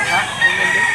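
A gray rooster crows loudly and close by in one sustained, strained call lasting about a second, at a chicken market in Lipa, Batangas.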